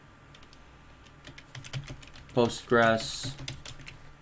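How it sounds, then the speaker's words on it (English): Someone types on a computer keyboard, a rapid patter of key clicks that keeps going while someone speaks over it close by. "Then type in your description"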